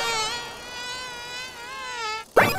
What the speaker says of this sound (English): Blood dragons! Mosquitoes!